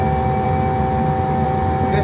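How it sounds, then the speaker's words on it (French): An altitude alert alarm sounding steadily in an A320 flight simulator, a sustained electronic tone held over the low rumble of engine and cabin noise. "c'est une alarme pour vous dire qu'on est sorti de l'altitude prévue"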